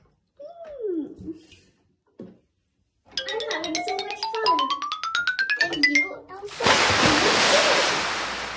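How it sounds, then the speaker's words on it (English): Water splashes in a swimming pool during a pool party, a burst of loud broadband sloshing arriving near the end after a stretch of high voices and a rising electronic tone. "Splash."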